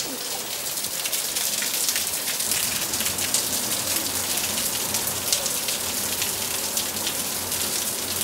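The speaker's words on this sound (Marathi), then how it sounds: "नुसतं बाहेर बघा किती सारा पाऊस आहे" Heavy rain pouring down outdoors, a dense, steady roar of drops hitting surfaces, loud and unbroken from start to finish with no talking.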